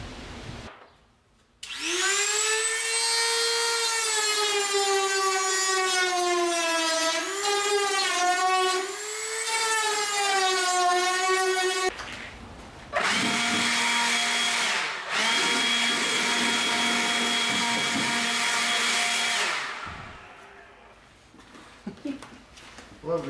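Dremel rotary tool grinding to clean up a car's hood exit, a loud high-pitched whine that rises and falls in pitch as it bites, cutting out briefly around mid-clip before resuming, then winding down near the end.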